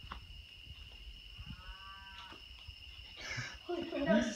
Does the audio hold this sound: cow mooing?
yes